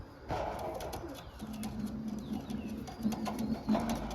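High-flyer baby pigeons coo softly in a small pen, a low steady murmur with a few brief wing and cage sounds, faint and close.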